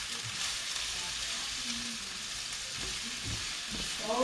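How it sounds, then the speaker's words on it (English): Onions frying in a pan for crab cakes and risotto, giving a steady close sizzle with occasional stirring scrapes throughout. "You want to cook the onions until they're a little translucent."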